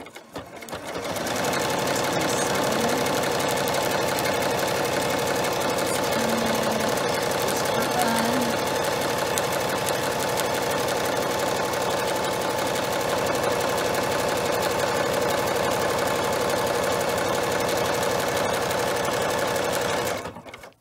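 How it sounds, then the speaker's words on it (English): A Madam Sew sewing machine runs a zigzag stitch with a presser foot riding over a middle bar, giving a loud, steady, rapid mechanical whir that starts after a second and stops near the end. "all I need to do is start sewing"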